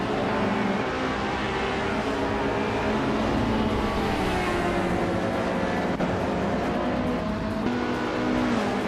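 Race cars speeding in a racing game, with engines roaring steadily and loudly throughout and pitch rising and falling as the cars accelerate and pass.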